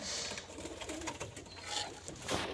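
Pigeons coo softly in an aviary housing young birds, a faint murmur set against a background hiss.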